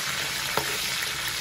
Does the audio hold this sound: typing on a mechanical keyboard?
no